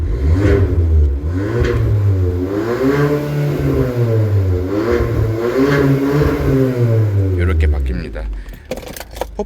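A 2020 Hyundai Sonata (DN8) 1.6 turbo with a variable exhaust revs up and down repeatedly with a deep exhaust rumble, the pitch rising and falling in waves, then drops away near the end.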